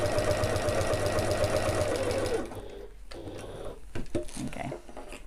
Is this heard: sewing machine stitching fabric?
yes